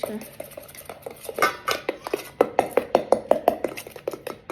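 A chopstick rapidly clicks and scrapes against a bowl while mixing chicken ingredients, a quick run of close, sharp taps growing steadier toward the end.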